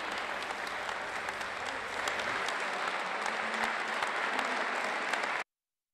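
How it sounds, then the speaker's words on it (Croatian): Sustained applause and ovation fill Sarajevo City Hall as a final verdict is announced, a dense, steady clapping crowd that holds for over five seconds and then cuts off abruptly. "Presuda je dočekana uz aplauz i ovacije."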